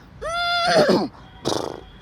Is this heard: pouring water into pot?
no